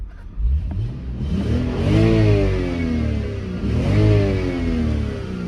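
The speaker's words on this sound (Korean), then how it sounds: "엔진 소리 이제 한번 들려드릴게요 여기 좀 있으니까 마음 놓고 밟아보겠습니다" A BMW F10 528i inline-six revs twice in a row, each blip climbing smoothly in pitch and then falling back. The engine sounds fairly close and nothing else is heard over it.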